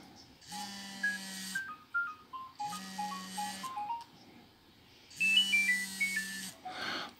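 A Nokia 6610 mobile phone plays a polyphonic ringtone melody at fairly low volume, in three repeated phrases with short pauses between them and no talking.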